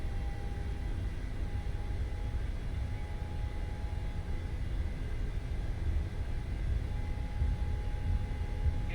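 Engines of a simulated PMDG 737-800 throttling up to takeoff power give a steady, even roar with a faint constant whine, holding at a similar level throughout with no voices.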